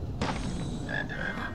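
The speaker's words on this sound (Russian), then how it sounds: "Лягушки" Frogs croak in the Harry Potter and the Philosopher's Stone video game, a sudden loud croak followed by a warbling, bubbly trill. The sound is close and clear over quiet background.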